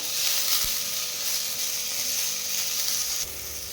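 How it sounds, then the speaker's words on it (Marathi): Coriander seeds added to a little oil with softened onion and sautéed, giving a continuous close sizzle with faint stirring, easing slightly near the end. "थोडंसं तेल ॲड करू थोडेसे धने आपण यामध्ये टाकून घ्यायचे एकसारखं परतवून घेऊया"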